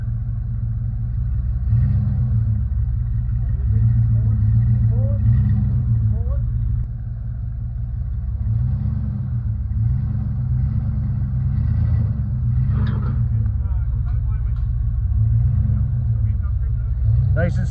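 A vehicle engine rumbles low and steady while a dead vehicle is pulled to the side of the road at night. The drone swells and eases in slow pulses, with voices talking over it.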